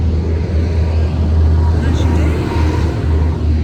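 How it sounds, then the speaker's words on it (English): A tractor on a rural road in Spain rumbles past close by, a loud low engine drone swelling and fading, with a person talking over it. "just a tractor coming past."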